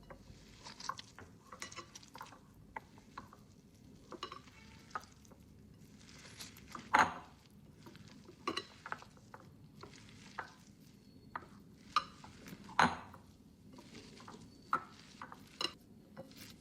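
Thick gram flour batter for kothimbir vadi mixed and kneaded by hand, giving quiet, close, irregular squishing and slapping sounds with occasional sharper knocks against the bowl.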